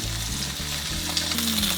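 A Costco tomahawk pork chop searing in a hot pan, a loud continuous sizzle and spit heard up close with a low hum underneath.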